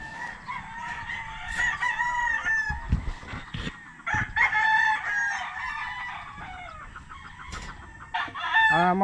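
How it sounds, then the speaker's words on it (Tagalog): Roosters crowing at a gamefarm, several loud harmonic crows overlapping one another along with clucking and squawks from nearby fowl, with a few sharp low bumps, and the birds sound close and continuous. "Magandang manok to, high station, ganda ng buto."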